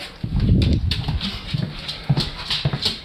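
A dog close by makes a series of short, muffled barks and whimpering huffs, with irregular bursts of low vocal sounds and some shuffling between them.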